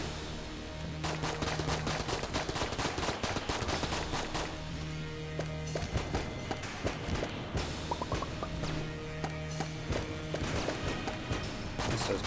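Rapid gunfire from an AK rifle in the bullet-hell game Enter the Gungeon, a dense run of sharp cracking shots with brief pauses between bursts, steady and fairly loud throughout.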